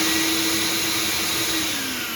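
A SurfPrep POV-8 dust extraction vacuum, switched on through the sander's speed control, runs with a loud, steady, close whine and a constant tonal hum for the whole stretch, without any talk.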